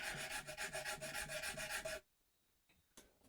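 Rasping file strokes cutting nut slots on a Les Paul Jr guitar, a rhythmic series of close back-and-forth scrapes that stop abruptly, then near silence with one brief scrape.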